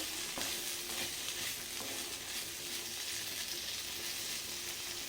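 Okra (bendakaya) fries in a pan with a continuous dense sizzle and occasional soft scrapes of stirring, held at an even level throughout with no one speaking.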